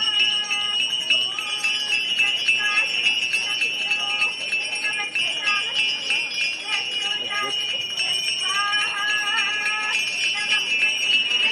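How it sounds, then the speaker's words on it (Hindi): Ganga aarti at a ghat in Varanasi, with ritual bells ringing steadily and a sustained metallic ringing and chanting-like tones over crowd murmur, loud and continuous throughout. "बनारस का ये 80 घाट है जहां पर इस वक्त मां गंगा की आरती की जा रही है।"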